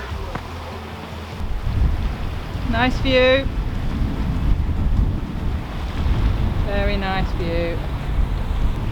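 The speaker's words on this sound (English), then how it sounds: "Oh, it's a bit windy." Wind gusting across a microphone at a hilltop viewpoint, a constant low rumbling buffet throughout, with short spoken remarks heard over it.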